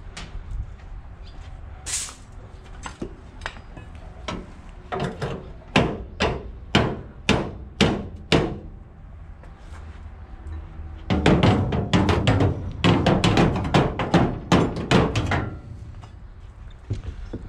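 A hammer bangs on a metal part of a Bizon Rekord combine harvester header in uneven series of sharp strikes, first spaced out, then a rapid flurry of blows, close and loud with no talking.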